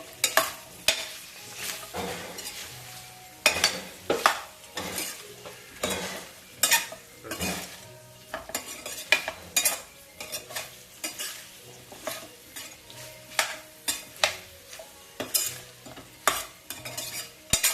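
Chicken pie filling with ginger is stirred in a pan, a utensil scraping and scooping in repeated irregular strokes over a soft, continuous sizzle, close and fairly quiet.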